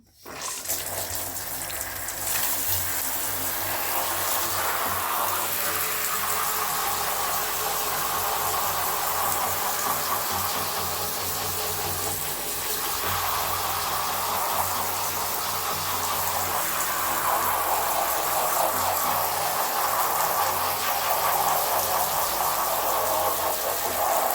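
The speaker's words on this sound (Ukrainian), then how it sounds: "Зараз я беру, вмикаю душ." A shower runs water into a bathtub, a steady loud rushing spray that continues without break for the whole stretch.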